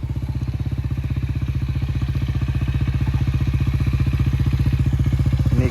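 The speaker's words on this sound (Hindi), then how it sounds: "अभी बाइक निकालने गया था। यहाँ पे पूरा कीचड़ ही कीचड़ है।" A motorcycle engine runs steadily in deep monsoon mud, a close, loud, evenly pulsing putter that holds for several seconds and builds slightly toward the end.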